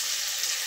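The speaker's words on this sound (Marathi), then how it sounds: "तेल तापले, त्याच्यामध्ये आता जिरी टाकते." Cumin seeds and garlic frying in hot oil in a kadhai, a steady close hiss of sizzling that holds evenly through the short moment with no one talking.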